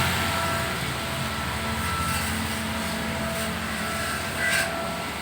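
A 2010 Daihatsu Sigra with Blackcore tuning, its exhaust giving a steady, droning engine rumble held at an even pitch, close and continuous with a slight swell near the end.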